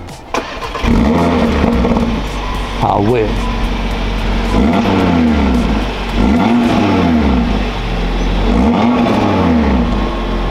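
A 2-litre five-cylinder 390 hp Audi RS3 engine in a Cupra Formentor VZ5 revs repeatedly, climbing and falling in pitch several times, loud and close, with a short remark from a voice early on.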